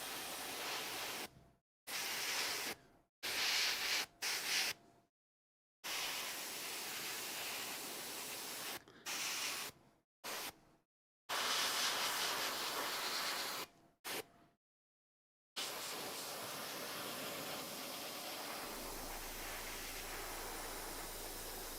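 Bursts of spray paint hiss onto a miniature model, with several short blasts broken by silences and then one longer continuous spray, each burst fairly close and loud.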